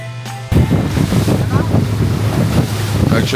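A small propeller boat motoring across rough water toward the Perhentian Islands, heavy wind buffeting the microphone, a steady low engine drone and rushing air throughout.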